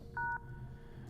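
Two quick touch-tone beeps from a phone keypad being dialed in the horror game Luto, clean and fairly faint over a low background hum.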